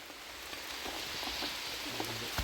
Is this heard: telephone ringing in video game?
no